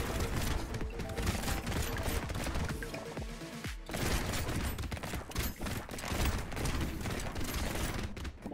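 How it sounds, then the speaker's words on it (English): Many bullets firing nonstop in the video game Brotato, a dense, relentless mechanical rattle of rapid shots with a brief thinning partway through before the barrage resumes. "That is a lot of bullets."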